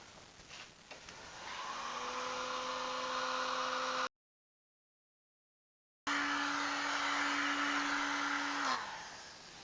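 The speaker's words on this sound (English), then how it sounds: "So I'm going to put the heat gun on" Heat gun blowing on the housing of a Honda SH300i scooter, a steady close whirring fan with a hissing airflow and a faint tonal whine, running continuously and winding down at the end.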